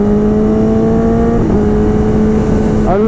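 An engine revs hard through gear changes made by an electronic quickshifter kit in fixed mode, its rising tone twice dipping briefly at the shifts before climbing again, loud and close throughout.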